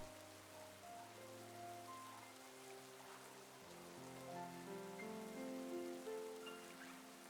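Steady rain falls in the Pokemon Legends Arceus video game, a soft, even patter held under gentle background music for the whole stretch with no talking.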